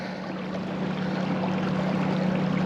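Steady low engine hum of a boat motoring across water, constant and fairly close, with a broad wash of water noise and no voices.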